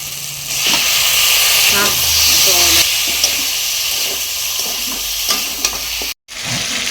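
Chicken pieces sizzle loudly in a hot pan while a spoon scrapes and stirs them in clear, irregular strokes. The frying hiss is continuous and close, and a sharp cut near the end briefly silences it.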